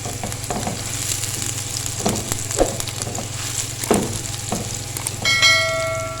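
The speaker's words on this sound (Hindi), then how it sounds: "प्याज को सिर्फ हम सौते करेंगे" Finely chopped onion sautés in a pan for an Afghani omelette, giving a continuous close sizzle with occasional stirring scrapes and a brief metallic ring near the end.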